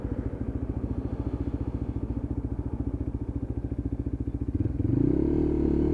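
A Lexmoto LXR 125 motorcycle thrums with a steady, rapid engine pulse while riding, then the revs climb into a rising, smoother whine as it accelerates and pulls through the gears, close and fairly loud.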